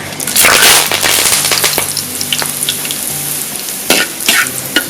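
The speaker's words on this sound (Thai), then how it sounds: "ทอดใบมะกรูดด้วยจ้ะ" Kaffir lime leaves fry in hot oil with a loud, crackling sizzle full of sharp pops and spits, busiest at the start and flaring again toward the end, with no voices.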